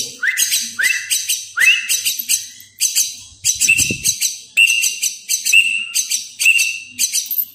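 A jalak kebo (buffalo myna) chick calls nearby in a loud, repeating series of harsh rising chirps and whistles, each call separated by a brief pause, with a soft thump midway.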